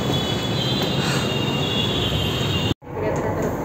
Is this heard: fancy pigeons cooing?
no